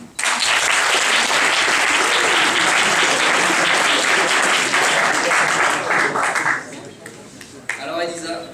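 A debate semifinal audience bursts into sustained, loud applause, dense clapping that holds steady for several seconds before fading, after which a voice speaks.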